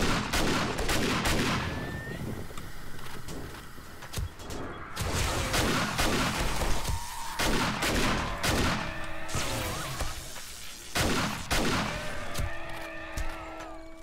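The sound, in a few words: explosions and gunfire during a zombie horde in 7 Days to Die video game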